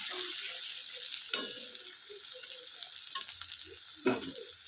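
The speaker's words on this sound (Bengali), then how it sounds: "আলুটাকেও একটু লালচে করে ভাজা হয়ে যায়।" Potatoes fry in hot oil in a pan, giving a steady close sizzle throughout with a few sharp clinks from stirring.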